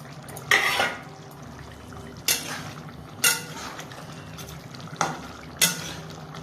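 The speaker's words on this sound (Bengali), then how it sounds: "বন্ধুরা ঢাকনাটা খুলছি।" A pot lid comes off a simmering pot of Bengali baspata fish chachchori with potatoes, making about five sharp metallic clanks and rattles spaced apart over a quiet background.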